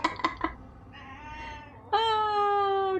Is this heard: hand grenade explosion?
no